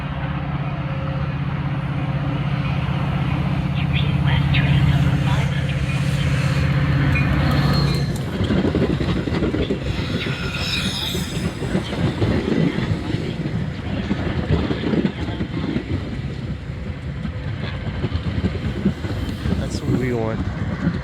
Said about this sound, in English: await getting blasted in the face with snow by the Elburn-bound train and its shiny gallery cars in tow